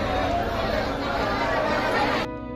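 Dense crowd chatter on a busy early-morning railway station platform before a local train, many overlapping voices forming a loud steady babble that cuts off abruptly near the end.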